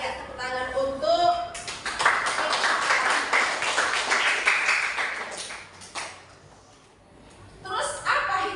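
An audience claps for roughly four seconds at an Indonesian talk about honesty and steadfastness, with a speaking voice before and after the applause.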